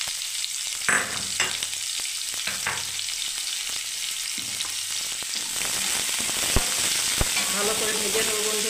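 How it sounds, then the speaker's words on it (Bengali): Onions sizzle in hot oil at the start of a Bengali pach mishali chorchori, a steady crackling fry broken by a few sharp spitting pops and soft stirring knocks, close and fairly loud with no talking. "প্রথমে পেঁয়াজটা আমি দিয়ে দিচ্ছি বন্ধুরা ভাজার জন্য।"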